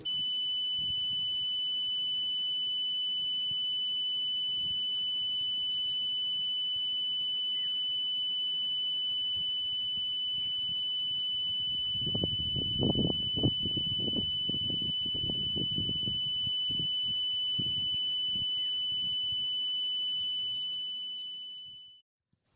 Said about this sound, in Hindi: आइए सुनते हैं वो कौन सी धुन आजकल YouTube पे चलाई जा रही है, जिसको सार नाम बोला जा रहा है।